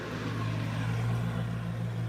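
Steady road traffic rumbles past nearby, a continuous broadband drone with a low engine hum throughout and no speech.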